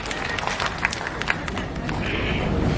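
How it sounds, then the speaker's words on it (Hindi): A small group claps for children at a tribal-style birthday celebration, a short burst of scattered clapping from a nearby indoor crowd over a steady background murmur. "इनके लिए ताली।"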